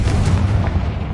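Confringo blasting spell in the Hogwarts Legacy video game, a loud, deep booming explosion rumbling continuously through the short moment.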